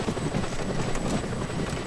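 Helicopter in the video game Just Cause 2, a steady loud rotor drone with broadband engine roar, continuous and close throughout the short stretch with no talk.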